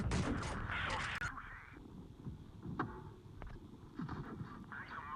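Tank cannon shots in the video game World of Tanks: a few sharp booms spaced irregularly through a dense, busy mix of battle noise, with a muffled voice in the background.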